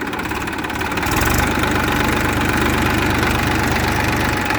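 A tractor engine runs with a steady diesel rumble and knock that deepens and grows slightly louder after the first second as the accelerator is pressed, close and continuous with no talk.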